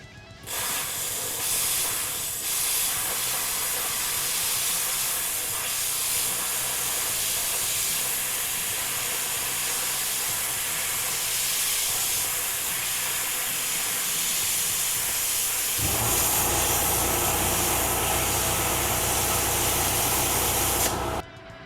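An Arccaptain plasma cutter slices through 1/4 inch steel with a loud, steady hiss of air and arc that runs unbroken for about twenty seconds, the roar growing fuller and heavier near the end before cutting off.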